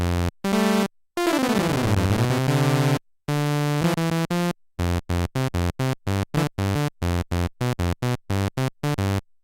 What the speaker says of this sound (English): So that's the sound of the sawtooth.